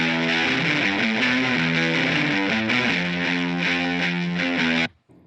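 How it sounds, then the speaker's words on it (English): Soloed layered synth and guitar parts on a metal track are pushed through heavy distortion, forming a dense, buzzing, rhythmic riff that plays loud and steady before cutting off abruptly near the end. "I combined all the sounds, turned the distortion up, and then this is what we came up with."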